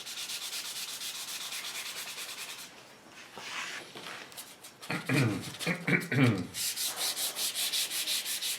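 Sandpaper rubs in steady, rapid back-and-forth strokes over a custom English walnut gunstock for an HW80 air rifle. The sound is close and loud, with a brief pause and some handling noise midway before the sanding resumes.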